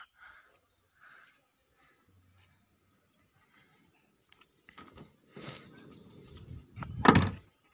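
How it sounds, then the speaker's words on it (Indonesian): Doors on a Toyota Kijang Grand Extra are opened and shut, with a few faint clicks and rustles giving way to a louder clunk and then a heavy, close door slam near the end. "pintunya masih enak semuanya ini tutup-tutupannya"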